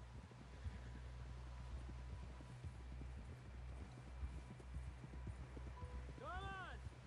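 Hooves clip-clop steadily beneath low rumbling ambience as a horse trots along in Red Dead Redemption 2, with a brief rising chirp near the end and speech in the background.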